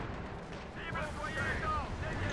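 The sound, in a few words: cannon fire in Company of Heroes 2 video game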